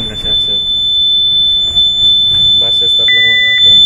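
A Furuno MF/HF DSC marine radio sounds its alarm after AC mains power is switched off, a steady electronic beep tone rising clearly near the end over a constant high whine, with someone talking throughout.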